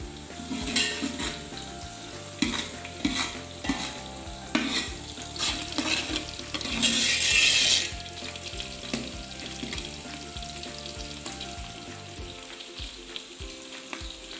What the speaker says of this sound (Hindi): अब हम तमाम चीज़ों को अच्छे से फ्राई और प्याज को ब्राउन कर लेंगे।